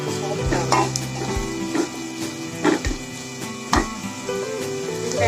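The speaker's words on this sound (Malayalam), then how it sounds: "നന്നായിട്ടൊന്ന് വഴന്ന് വരണം" Green chillies sauté in a pan for butter chicken, a steady sizzle under scattered scrapes and clinks as a spoon stirs against the metal.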